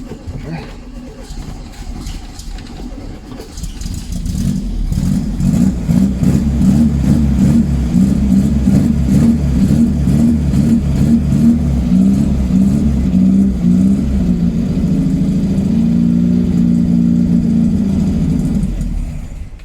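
1974 VW Beetle engine that has sat for years, cranked by the starter with a suspected dead fuel pump: a close, loud, rhythmic churning that runs for about fifteen seconds without catching, with brief talk at the start.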